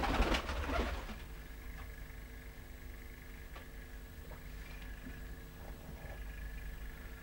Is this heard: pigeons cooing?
yes